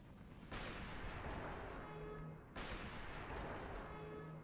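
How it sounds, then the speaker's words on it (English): A sniper cannon fires in a video game, two heavy booming shots about two seconds apart, each a loud broadband blast that sustains with a steady rumbling tail, heard without any talk. "Sniper cannon action."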